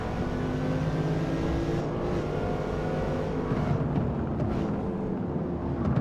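Mercedes C63 engine noise in a racing video game, a steady, continuous drone with rising and falling pitch sweeps as the car revs through downshifts, loud throughout with no talk.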